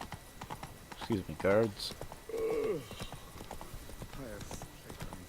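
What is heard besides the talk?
horse hooves clip-clopping in Witcher 3 video game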